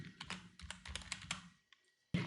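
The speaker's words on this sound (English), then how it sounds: "hit F2 on the keyboard" A single computer keyboard key is pressed while renaming a node in DaVinci Resolve 17, a crisp up-close tap after a run of rapid clicks, with a brief quiet gap before another sharp click.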